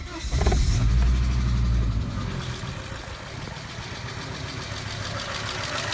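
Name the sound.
Volvo 850 T-5R engine starting and idling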